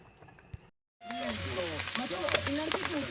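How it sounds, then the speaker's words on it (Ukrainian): Shellfish sizzling in a frying pan at an evening meal on a road trip, a steady broadband crackle and hiss that starts abruptly after a brief silence and continues loud and close, with a faint voice in the background. "так мої морські мешканці смажаться"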